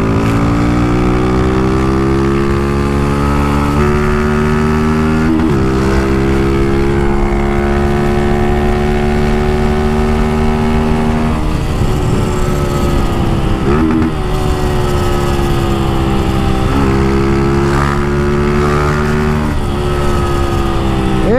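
A motorcycle with an aftermarket exhaust revs hard again and again, its loud engine note climbing and dropping in repeated sweeps, close and continuous without speech.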